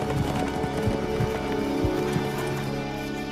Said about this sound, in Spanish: Un caballo se aproxima raudamente por los llanos.